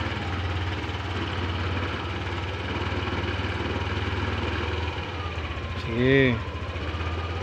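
An engine idles steadily and is gradually revved harder, a droning mid-range hum with a brief rising note near the end, while someone speaks over it.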